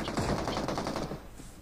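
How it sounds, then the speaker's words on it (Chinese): Automatic gunfire crackles across a river in a battle royale video game, a quick rattling burst of rapid shots at moderate distance, fairly faint. "跟前河里有枪声啊！"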